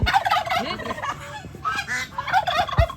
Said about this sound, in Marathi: दिस इज द गावठी कोंबडा